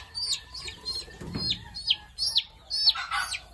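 An F1 jungle fowl rooster crows in a coop, its calls coming in a series of short, bright bursts. A brief low thump sounds partway through, and the rooster is fairly near and clear.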